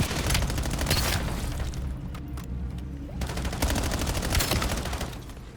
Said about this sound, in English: Was he actually shooting?